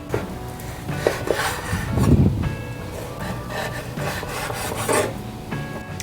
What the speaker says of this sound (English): Now that we have our slices, we're gonna cut on a diagonal in little, even tinier pieces.